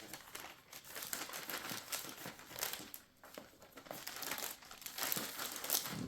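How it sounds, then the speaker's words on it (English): A wig is pushed into a small plastic bag, producing continuous close, soft crinkling and rustling of the bag that rises and falls for several seconds without speech. "we put it in a little bag to keep it safe"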